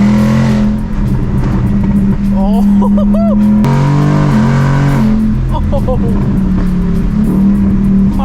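A new Ford Mustang engine revs and roars while driving, loud rising and falling engine pitch sweeps with a brief exclamation from the driver over it.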